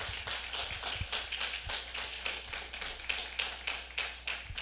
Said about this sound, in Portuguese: Então dê uma salva de palmas ao nosso Deus